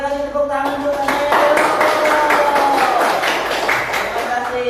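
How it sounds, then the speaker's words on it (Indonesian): A classroom group claps hands in a fast, rhythmic run of sharp slaps that carries on to the end, with voices sounding briefly at the start. "Yuk kita kasih tepuk tangan untuk kalian."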